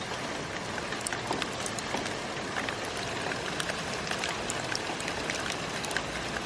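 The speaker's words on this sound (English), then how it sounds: "There's bubbles in the gutter. It's kind of sleety, doesn't it?" Sleety rain patters and bubbles in a street gutter outdoors, a steady dense hiss of drops and trickling water, close and even throughout with no voices.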